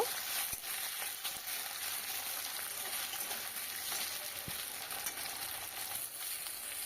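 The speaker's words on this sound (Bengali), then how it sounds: "আলুগুলো একটু নেড়ে নেব" Potatoes stirred in a pan of hot oil tempered with nigella seeds, a steady close sizzle of frying with faint scrapes of stirring running throughout.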